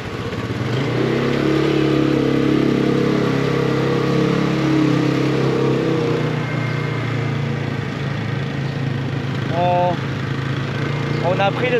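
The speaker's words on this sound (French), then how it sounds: "On a pris le scooter parce que c'est plus facile pour se garer." Scooter engine droning steadily while riding through busy Saigon streets during Tết preparations, with other traffic around, a brief horn-like chirp near the end, and voices talking over it.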